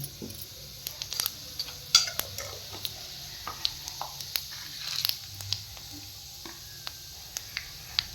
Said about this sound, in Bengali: আমি এই তেলটার মধ্যেই এখানে একটু গোটা জিরে ফোড়ন দিচ্ছি, আর এখানে একটু মৌরি ফোড়ন দিলাম।